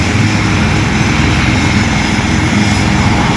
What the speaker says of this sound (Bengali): এই যে দুটো হেলিকপ্টার অলরেডি ল্যান্ড করতে